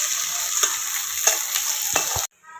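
Pointed gourd pieces frying in hot oil give a loud, steady sizzle with scattered pops and crackles, cutting off abruptly near the end.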